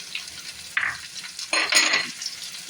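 Capsicum sautéing with already-fried onion in a pan for spring roll filling, with a steady close sizzle broken by louder bursts of stirring and scraping against the pan.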